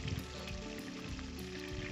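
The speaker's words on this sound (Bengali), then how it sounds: "খুব সুন্দরভাবে ফ্রাইগুলো হচ্ছে হাই ফ্লেমে।" Chicken pieces frying over a high flame for a yogurt chicken dish, giving a soft, even sizzle with faint crackles that continues throughout without speech.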